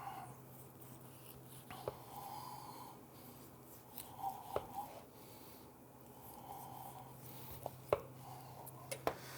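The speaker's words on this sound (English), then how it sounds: "So what I do is I cut in between the vertebrae. doing full chops." A knife cuts pork between the vertebrae into full chops, producing several faint, scattered scraping cuts and sharp taps at close range with quiet gaps between them.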